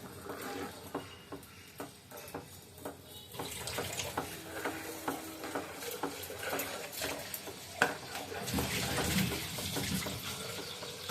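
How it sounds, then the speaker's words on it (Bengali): Khichuri being stirred in a pot after hot water goes in, with repeated soft scraping strokes and watery sloshing over a light sizzle, close and steady. "তারপরে দিয়ে দিবে একটু গরম জল, আবারও একটু নেড়ে ছেড়ে মিশিয়ে নিচ্ছি"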